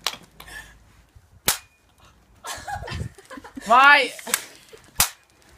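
Sharp gunshots in the Overwatch video game, a few isolated cracking shots spaced a few seconds apart, mixed with excited players talking and game effects.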